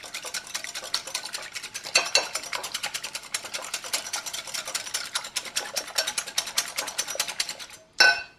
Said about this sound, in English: I'm gonna take this whisk, mix those up a little bit